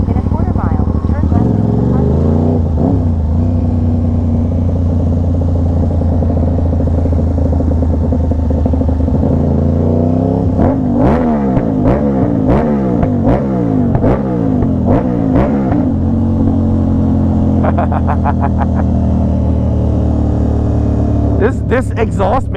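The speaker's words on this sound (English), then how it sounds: "This exhaust makes you like a menace with this bike." A motorcycle fitted with a loud aftermarket exhaust revs and accelerates close by. The engine climbs hard through repeated rising pulls with gear changes, then ends in a burst of rapid crackling pops.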